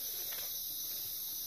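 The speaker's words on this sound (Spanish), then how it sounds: "De ahí los grillos, ¿sabes? Que se escuchan también" Crickets chirping outdoors in scrubby wild countryside, a faint continuous high-pitched trill held steady throughout with no voices.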